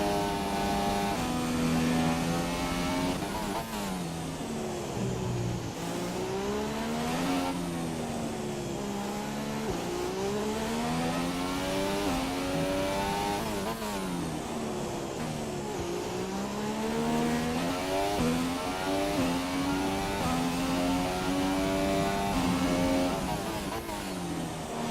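Racing-car engine screaming through a qualifying lap of the Brazilian Grand Prix in a racing video game, loud and continuous with rising and falling revs and gear shifts throughout.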